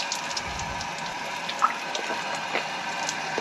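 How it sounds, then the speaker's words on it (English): Running water pours steadily from a tap in a Spanish village, filling water bottles, a soft continuous splashing with faint drips and clinks, no voices. "filling up some much deserved water bottles"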